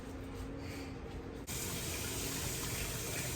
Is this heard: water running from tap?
yes